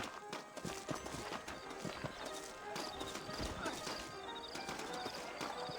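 Hooves clip-clopping at a steady walking rhythm, with a horse whinnying and snorting, over music and ambient game sounds in Red Dead Redemption.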